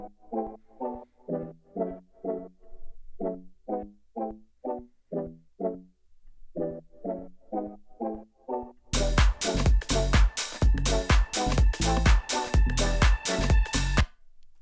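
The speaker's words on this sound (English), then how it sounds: "On the synths, I'm adding a more obvious reverb." A synth with Valhalla Supermassive reverb and sidechain starts as sparse, evenly spaced plucked notes with a washy tail, then turns into dense, pumping full-band chords for the second half. The sound is loud and runs alone.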